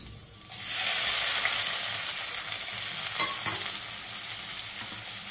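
Garlic drops into hot oil already tempering with mustard seeds, cumin, asafoetida and fenugreek for Rajasthani dal, bursting into a loud, close hiss that then holds as a steady frying sizzle with some stirring.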